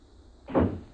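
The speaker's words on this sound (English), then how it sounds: "The front door." A single muffled thud and rumble of a house's front door opening, close by, after a moment of near silence.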